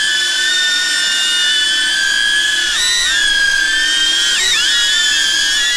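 DJI Avata drone hovering and flying under a motion controller, a steady high-pitched propeller whine with layered tones that bend and shift pitch as it maneuvers, continuous and fairly loud, with no talking.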